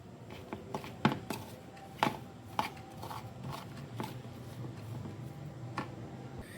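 Potato and chicken filling with finely chopped omelette-style ingredients being mixed in a bowl for bread rolls: a few soft spoon knocks and light scraping taps, quiet and close, over a faint low background.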